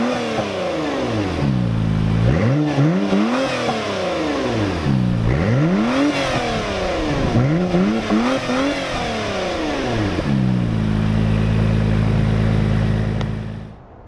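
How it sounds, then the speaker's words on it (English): A 2017 Acura NSX exhaust revs repeatedly, rising and falling in sharp sweeps before settling into a steady loud idle drone, close and with no talking. "Now let's hear how the exhaust system sounds."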